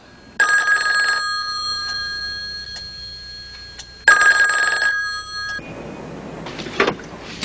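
A telephone rings unanswered in two long, loud electronic ring bursts separated by a pause, followed by a softer rustling, shuffling noise at the end.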